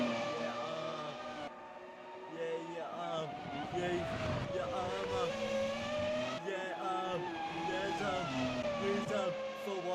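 2002 Formula One cars in a racing video game scream past with high, rising and falling engine whines, steady and fairly loud throughout, while commentators talk over them.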